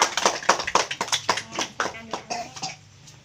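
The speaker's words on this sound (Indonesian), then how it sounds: "Tepuk tangan dulu buat Dila" Children in a classroom clap in a quick, even run of about a dozen claps, close and crisp, slowing and fading toward the end.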